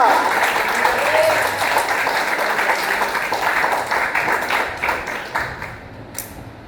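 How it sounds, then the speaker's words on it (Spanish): A church congregation applauding during a sermon, sustained clapping with voices mixed in, holding steady and then breaking into scattered claps toward the end. "¿Cuántos pueden darle un fuerte aplauso al que vive?"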